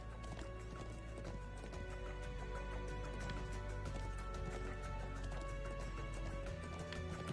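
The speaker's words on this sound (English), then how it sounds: "I'm glad I still remember how to ride a horse." Rapid galloping horse hoofbeats in a video game pound steadily throughout, set against a continuous layer of music, with no break in the rhythm.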